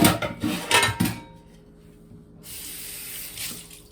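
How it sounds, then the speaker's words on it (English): Tap water running into a kitchen sink as items are washed, with splashing and knocking up front, a brief lull, then a steadier flow near the mic. "Put this stuff to wash."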